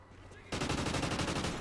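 Rapid automatic gunfire from Call of Duty: Ghosts bursts in suddenly after a quiet half-second, a dense rattling stream of shots that stays loud and steady to the end.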